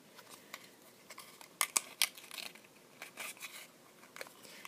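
A small cardboard cake box for a miniature food set is folded along its edges, giving quiet, crisp creases and crinkly snaps in a hushed room.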